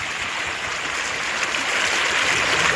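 Floodwater running along a roadside beside a house after heavy rain, a steady broadband rushing wash that stays even and fairly close throughout, with no voices.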